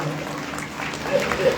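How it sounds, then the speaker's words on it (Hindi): A temple congregation at a devotional programme claps in welcome, a dense, steady patter of many hands filling the space, with a voice speaking over it. "आप लोग ताली बजाकर स्वागत करें।"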